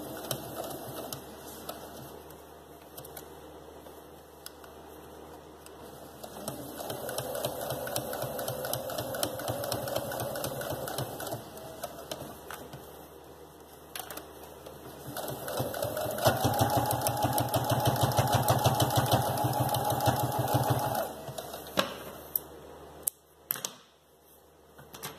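A sewing machine whirs and clatters close by as it stitches elastic onto a baby shoe, running in long steady bursts that swell and ease, with a few clicks and pauses near the end.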